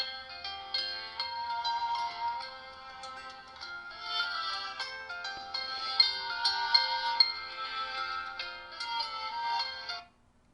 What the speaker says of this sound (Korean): 타이머가 너무 크게 올려요